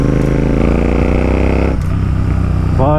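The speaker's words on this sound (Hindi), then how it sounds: "इंटरसेप्टर चला रहे अपन 650" Royal Enfield Interceptor 650 engine pulling hard under acceleration: a loud, close, steady harmonic drone that dips briefly as if shifting gear, then climbs again in pitch, with no talking.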